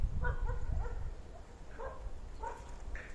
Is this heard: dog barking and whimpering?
yes